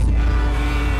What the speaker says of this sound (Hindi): अरे बाहर गाड़ियाँ चल रही है तो ट्रैफिक की आवाज आ रही है।